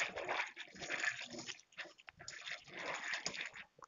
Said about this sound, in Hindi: इसमें कुछ हम नॉर्मल पानी से इसको धुल देते हैं।